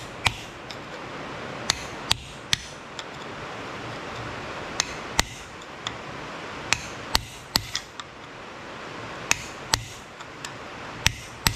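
Sharp metallic taps ring out as a chisel or pry bar strikes the corroded spindle of a Dana 25/27 front axle from a 1959 Willys CJ-5, a dozen or so irregular hits over a quiet background.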